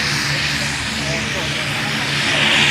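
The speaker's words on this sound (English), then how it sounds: "It's a bit noisy now, the plane is in the background." A loud, constant aircraft engine of a skydiving plane drones close by, a broad steady roar that swells slightly toward the end.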